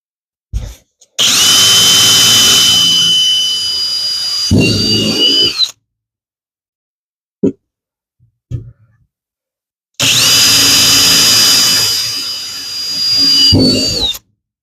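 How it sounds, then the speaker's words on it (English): A power drill with a 1/8-inch bit whines loudly at high speed through two long bursts, with a brief clatter of handling between them. "1/8 drill bit right there."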